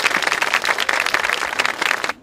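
Audience applause for two party co-leaders during a visit to Hankyong National University, a loud, dense burst of clapping filling the whole moment before cutting off at the end.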